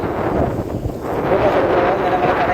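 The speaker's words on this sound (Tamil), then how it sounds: "இப்போ இந்த காற்று கூடி எப்படி அலை அடிக்கிறது தான் நீங்கள் பார்க்குறீங்க" Strong wind roars across a sea shore in Jaffna, Sri Lanka, with waves crashing, a loud continuous rumble buffeting the microphone, and a voice faintly audible beneath it.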